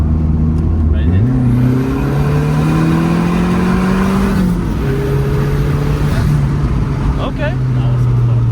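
Dodge Neon SRT-4 with a 5-speed manual, floored from inside the cabin: a loud engine note rises steadily in pitch, then drops at a gear change and climbs again, with voices talking over it.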